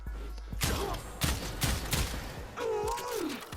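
Kuva Kohm shotgun in the Warframe video game spooling up and firing, a few spaced blasts that come faster as it ramps up, mixed with synthetic whirring tones.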